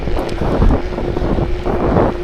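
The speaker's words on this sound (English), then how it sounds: "Quite windy tonight yet again." Gusting wind buffets the microphone on an evening ride, a steady low rumble with soft swells throughout, loud and close with no talking.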